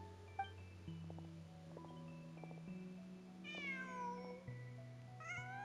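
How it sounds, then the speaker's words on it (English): A cat in the Genshin Impact video game lets out a couple of short, clear meows over soft, sustained game music tones, with no talking. "Just a cat."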